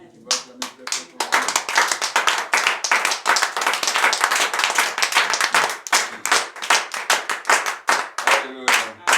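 A church congregation claps loudly and steadily in a fast, dense rhythm for about nine seconds, with voices calling out faintly underneath.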